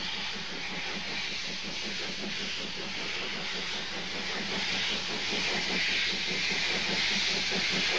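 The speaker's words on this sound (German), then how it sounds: "Die Lok schreit nach Dampf." A class 58 steam locomotive straining to put its power onto the rails gives off a loud, continuous hiss of steam, with rapid rhythmic chuffing pulses running underneath throughout.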